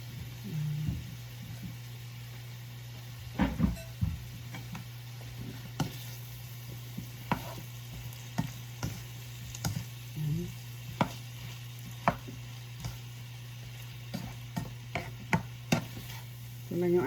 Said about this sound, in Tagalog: pwede na natin ilagay sa ating kawali at lutuin